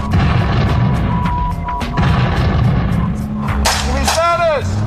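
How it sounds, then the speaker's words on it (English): Incoming artillery fire in a military field exercise, loud sustained booming and crackling blasts with sharp reports, and shouted voices near the end. "we got artillery coming in friendly"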